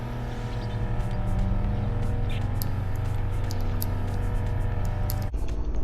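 Car engine in the video game Flashing Lights, a steady loud motor drone with a constant low hum running the whole time, small clicks and ticks on top, and a sudden cut near the end.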